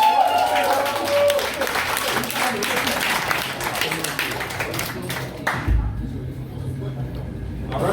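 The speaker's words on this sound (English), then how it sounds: "please give a big round of applause to our host of this event, Mr. Dwight Wuzich." An audience at a birthday comedy roast in Shenzhen, China applauds steadily, a dense sustained wash of clapping that carries on throughout with some voices mixed in.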